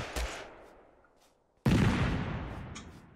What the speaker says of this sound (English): I just threw a grenade at him.